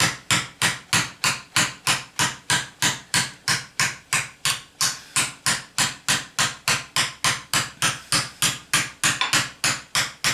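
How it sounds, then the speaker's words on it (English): A body hammer strikes steel on a handmade solid steel anvil in a fast, steady run of about thirty sharp ringing blows, close and loud, with no talk. "So we'll get back to the body hammer here, finish this off."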